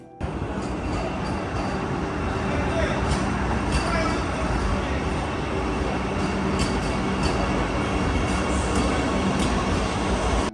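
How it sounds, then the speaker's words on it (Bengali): Vande Bharat Express train running from Howrah to NJP, a loud, steady rumble of wheels and carriages passing close by at a station, with voices mixed into the din. "অপেক্ষার মাঝে দেখা হয়ে গেল হাওড়া থেকে এনজেপিগামী বন্দে ভারত এক্সপ্রেসের সাথে"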